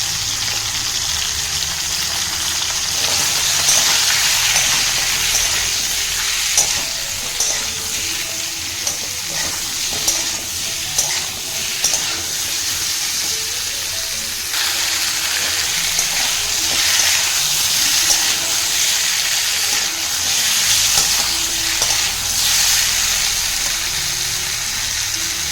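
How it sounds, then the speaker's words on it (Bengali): Potato pieces with salt and turmeric frying in oil left from frying fish, a loud steady sizzle with frequent spatula scrapes and stirring, no talking. "আমি এই মাছ ভাজার তেলটাতেই আলুগুলো দিয়ে অল্প পরিমাণ নুন হলুদ দিয়ে একটু নেড়ে নেব।"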